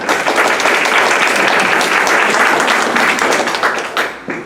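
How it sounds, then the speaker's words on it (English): A museum lecture audience claps in sustained, dense applause that stays loud and even before tapering off at the end. "You can save your applause for the speaker"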